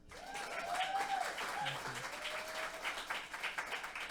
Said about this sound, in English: Let's get one more round of applause for our musicians